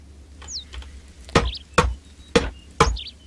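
Four sharp, hollow knocks of a hammer striking wood in the video game Aloft, spaced in a steady rhythm and close up, with faint bird chirps in the background.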